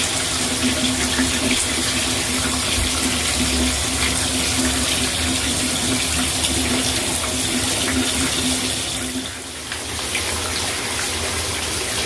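Water tap running steadily while a statue of the goddess Athena is washed under it, a loud continuous splashing gush that briefly dips near the end, no voices.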